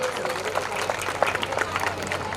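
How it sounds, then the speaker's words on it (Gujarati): Crowd applause at a village social gathering with a drama program, dense scattered clapping at moderate level over a low steady hum, sustained throughout without pause. "જોરદાર તાળીઓ."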